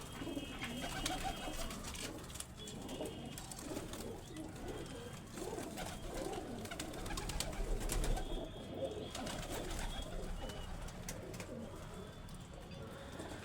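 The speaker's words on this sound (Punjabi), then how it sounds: "ਬਹੁਤ ਵਧੀਆ ਕਬੂਤਰੀ ਆ" Green pigeons with white eyes cooing softly in repeated low throaty calls, set against steady background noise and a faint murmur of voices.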